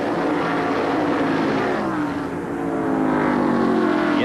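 NASCAR Winston Cup race cars at the Watkins Glen road course in 1989, a loud, continuous roar of engines passing in single file, swelling and fading slightly as they go by.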